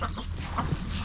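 A few chicken hens cluck softly nearby in a brief, low burst of clucks with no speech.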